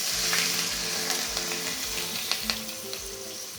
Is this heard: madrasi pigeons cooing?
no